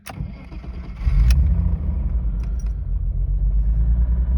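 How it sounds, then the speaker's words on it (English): A BMW E34 fitted with a 320D starter motor cranks and fires, a brief starter whir giving way to a steady, loud low engine rumble that continues close by without any talking. "how this car sounds with a 320D starter"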